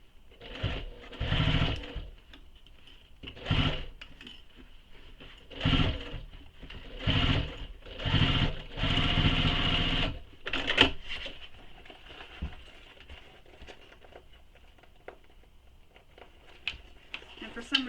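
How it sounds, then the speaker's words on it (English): A home sewing machine back stitches over earlier stitches on a belt bag, running in several short rapid bursts with brief pauses between them, followed by quieter handling and small clicks. "you'll back stitch over the previous stitches"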